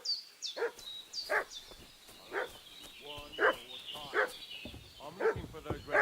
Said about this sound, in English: I do hear a dog barking.